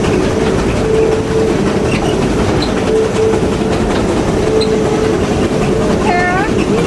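Cass Scenic Railroad train rolling along a mountain track, a steady loud rumble of wheels and cars with a faint whistle-like tone and a brief squeal near the end.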